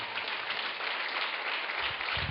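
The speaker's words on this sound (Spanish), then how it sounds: "Dele un fuerte aplauso al Rey de Reyes" A church congregation claps for a sustained stretch during a Spanish-language worship service, an even wash of many hands, moderately quiet and continuous without speech.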